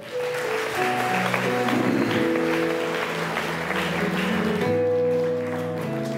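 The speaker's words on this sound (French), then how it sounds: "On applaudit Jésus" A church congregation applauds during a worship service, continuous clapping mixed with sustained music tones and some voices underneath, steady and fairly loud from start to finish.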